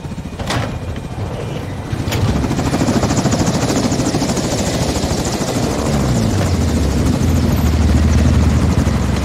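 A Modern Warfare 2 helicopter's rotors beat loudly and continuously with a dense, rapid chop and engine whine, steady throughout with a few brief knocks early on.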